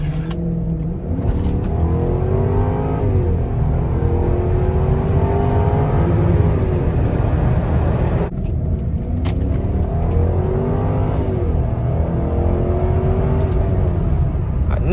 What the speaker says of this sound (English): I know y'all hear that V8. That joint screaming.